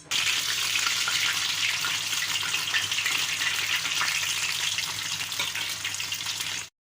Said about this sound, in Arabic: يلا بينا بقى نقلي العزبان مع بعض كده